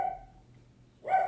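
Dogs barking indoors, two short sharp barks at the start and end with a quiet gap between, heard at a moderate distance without talking.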